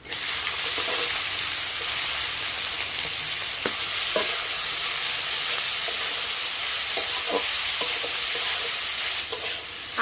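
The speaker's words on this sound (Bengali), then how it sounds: "আলু, ফুলকপি ও গাজর আমি এইভাবে নাড়াচাড়া করবো আর এইভাবে একটু খুন্তি দিয়ে ভেঙে নেব।" Boiled potato, cauliflower and carrot fry in a pan, a constant loud sizzle with repeated scraping and knocking from a spatula stirring and breaking up the vegetables, no voices.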